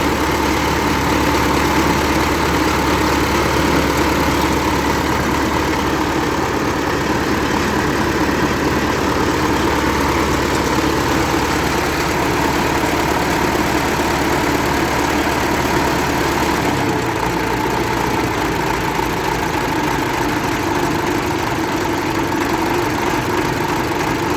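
YUMZ-6 tractor diesel engine idling steadily, close and loud throughout with a continuous low rumble, a slight drop in pitch partway through, and no talk.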